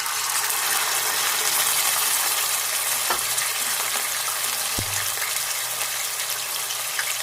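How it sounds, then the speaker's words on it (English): Marinated pork chops fry in a pan with a loud, steady, continuous sizzle, broken by a couple of brief knocks or clatters of the pan partway through. "we're gonna just fry them up"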